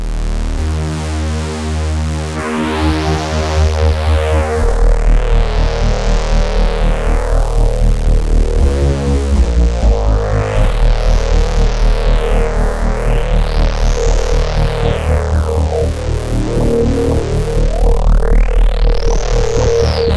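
Music run through the Clear Glass filter plug-in effect, a bright, glassy sweep that rises and falls in slow repeating waves over a steady beat.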